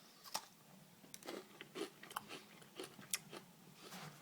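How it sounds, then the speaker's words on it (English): Someone bites into a Butterfinger candy bar and keeps chewing, producing close, quiet crunches in an irregular rhythm, with a few sharper snaps standing out. "I love the crunch to these kind of bars."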